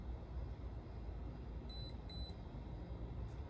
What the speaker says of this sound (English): Just wait for the beeps to continue.